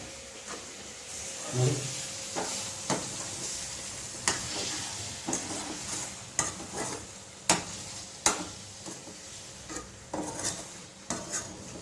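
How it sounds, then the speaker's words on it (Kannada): A spoon stirs chicken fried rice in a frying pan over a soft sizzle. About a dozen distinct scraping strokes come at a loose, regular rhythm, fairly quiet and close, with no talking. "ಇದು ಮಿಕ್ಸಿಂಗ್ ಕೊಡ್ತಾ ಇದ್ದೀನಿ ಇದು ಕೂಡ ನೋಡಿ"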